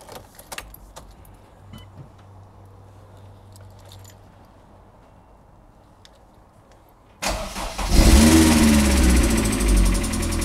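An MG car with electrical issues, long idle, is cranked: keys jangle and faint clicks come through a quiet garage, then the engine suddenly fires and runs loudly and steadily close by.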